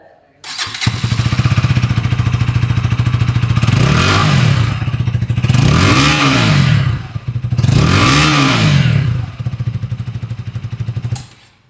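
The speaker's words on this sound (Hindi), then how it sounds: "ड्यूक 160 को करेंगे ऑन और सुनते हैं इस बाइक की एग्जॉस्ट साउंड" A KTM Duke 160 motorcycle fires up and settles into a loud, close idle with a rapid thumping exhaust beat, rising in three revving bursts before dropping back and shutting off.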